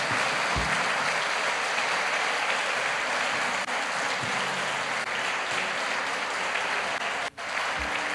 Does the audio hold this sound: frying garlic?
no